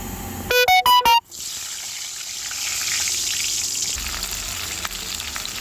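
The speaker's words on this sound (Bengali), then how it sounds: "তেলটা গরম হয়ে গেছে, আমি পটলগুলো ভাজতে দিয়ে দেবো।" Salted, turmeric-coated pointed gourd (potol) pieces hit hot oil in a pan and fry with a loud, steady sizzle, after a short burst of tonal beeps at the start.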